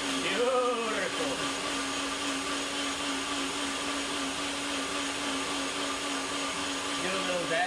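A kitchen blender whirring steadily while blending a superfood breakfast smoothie, a loud continuous motor drone with a pitch shift near the start and end.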